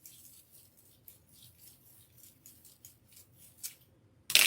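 Scissors snip through deco mesh in a quick, quiet series of crisp cuts with a soft rasping texture, ending in a louder scrape up close.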